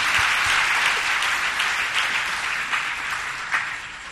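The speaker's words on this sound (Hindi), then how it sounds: "अपने मतलब में जल्दी ताली बजा जोर से ताली एक बार" A crowd at a Jain monk's spiritual discourse claps together on request, a steady, full burst of applause that gradually thins out, with no talking.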